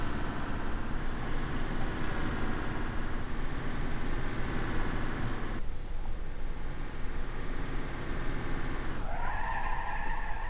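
A Wentward D40L bus in BeamNG.drive skids on its tires, giving a loud, continuous screech with a steady engine rumble underneath; the squeal changes pitch and grows more tonal toward the end.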